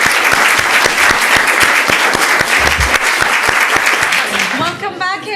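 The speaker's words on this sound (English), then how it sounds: "if you can join me in a round of applause." Loud audience applause closing a climate conference panel, a dense steady roar of many hands with some rhythmic clapping, cutting off near the end as a voice begins speaking.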